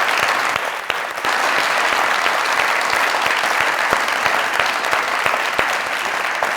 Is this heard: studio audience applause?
yes